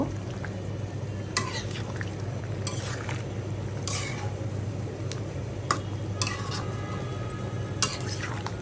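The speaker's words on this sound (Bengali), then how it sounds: "এখন আমি মাছটা দিয়ে দিব মাছটা দিয়ে একটু নেড়ে ছেড়ে মিশিয়ে দিব" Snakehead fish is stirred into a spiced potato masala in a pan, with sparse, sharp utensil scrapes and clinks over a steady low hum and a faint sizzle.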